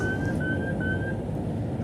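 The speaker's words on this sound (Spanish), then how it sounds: "Su estación pasa entre fuertes avisos con ambas bocinas" A train sounds its horns in a long, steady sustained blast as it passes through a station, on the Transpirenaico line in Montcada, over a dense roar of the moving train.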